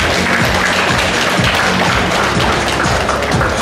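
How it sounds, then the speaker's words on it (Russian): Audience applause at a fashion show during a master class in a shopping mall: dense, steady clapping fills the whole stretch at close range with no speech over it. "Можно поддержать модель или ваши аплодисменты?"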